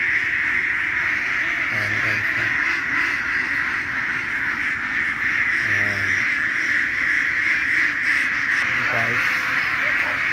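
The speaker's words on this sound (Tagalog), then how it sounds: "and yan karami ang itik nila." Many ducks kept on a farm quack steadily as a flock, with a constant raucous chorus throughout and someone talking over it.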